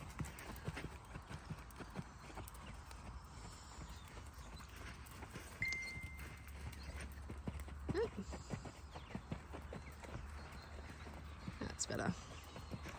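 A horse canters under a rider in an arena, soft rhythmic hoof thuds heard faintly at a distance over steady low background noise, with a voice talking over them.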